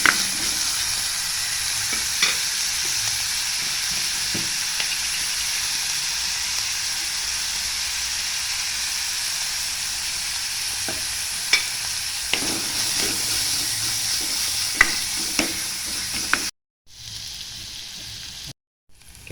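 Green bean curry ingredients sizzle and fry in a pan with a constant loud hiss, occasional clinks and scrapes of stirring, close by and with no talking, briefly cutting out near the end.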